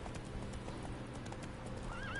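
A horse in The Witcher 3 gallops with steady, clear clip-clop hoofbeats and neighs, heard alone in a game setting with no talk.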